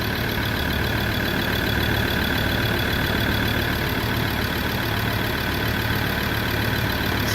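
A Ford Ranger PX3 engine idles after a catch can install, a steady, even low drone with a constant hum and no voices.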